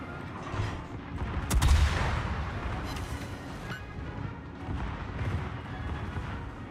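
Cannon fire in a video game battle: a heavy boom with a sharp crack and a few further thuds and bursts over a continuous rumbling din, with no speech.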